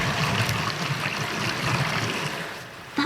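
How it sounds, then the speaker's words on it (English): Water sloshes and splashes continuously inside a dishwasher as the spray arms spin, a steady churning wash of spray close by. "Listen, can you hear it all sloshing about?"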